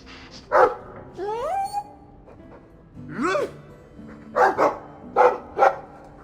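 A dog in the video game Dragon Age II barks and yips several times, with whiny rising calls between the sharp barks.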